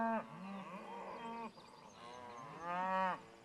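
Cattle moo twice nearby, two long, resonant calls separated by a short pause, with faint outdoor background between them.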